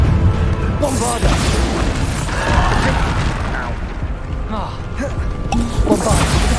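Bombarda blast spells bursting in Hogwarts Legacy, a string of loud booming impacts and crashing hits mixed with clanking game effects, with a voice talking over the fight.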